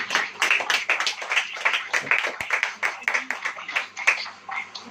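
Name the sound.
congregation clapping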